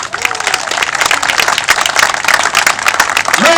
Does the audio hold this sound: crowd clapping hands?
yes